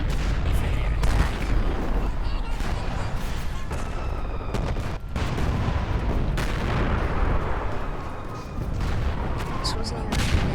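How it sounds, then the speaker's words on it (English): Artillery shelling in a Roblox World War 1 game: a dense, continuous rumble of explosions and gunfire with heavy booms, loud throughout and with faint voices underneath. "shelling started once more. As shelling started, we prepared"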